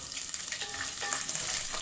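Chopped onion and curry leaves fry in a pan for a chicken semi-gravy, giving a steady, close sizzle that holds evenly throughout with no talking.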